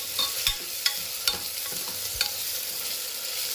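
Ground spices such as coriander powder being sautéed and stirred in a pan for a spiced khichdi, with a steady sizzle broken by sharp, regular scraping strokes of a spoon, close and without talk.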